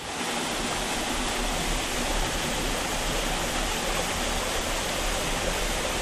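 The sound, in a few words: stream waterfalls of the Huanga creek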